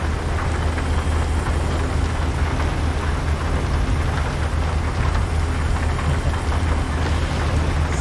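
Steady, dense rainfall hisses continuously with a low rumble underneath, unbroken and fairly loud throughout, in the video game American Truck Simulator.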